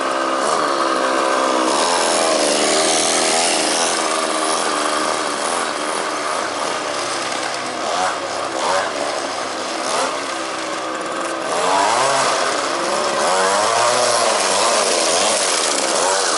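A vintage Raco Jack Rabbit engine runs steadily and loud for the whole stretch, its buzzing drone rising and falling as the throttle changes, with no speech.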